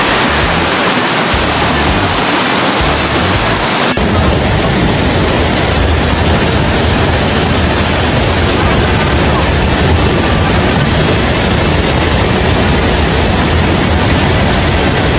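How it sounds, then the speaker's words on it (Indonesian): A fast-flowing river rushes loudly near a waterfall at Palak Siring, a dense, unbroken roar of water close by that swells after the first few seconds and holds steady. "sudah ada sungai yang mengalir deras, dan di samping kiri saya juga ada sungai"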